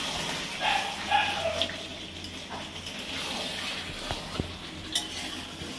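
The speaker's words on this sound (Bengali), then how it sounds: "জন্মদিন স্পেশাল চিকেন কষানো হচ্ছে" Chicken kosha being stirred in a pan as a birthday dish, a spoon scraping and clattering against the metal over a soft sizzle, with brief scrapes recurring through a busy kitchen background.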